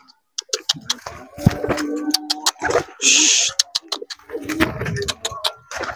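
Merpati mas pigeons coo repeatedly at a bird market stall, with a soft, nearby coo and bird calls interrupted by clattering and handling sounds, plus a brief burst of hiss.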